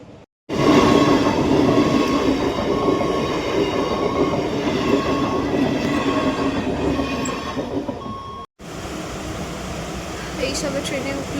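Moving passenger train on a hot day, heard from inside the carriage: steady loud rumble and clatter of wheels with faint squeals, briefly cut off before resuming, while a voice talks quietly over it.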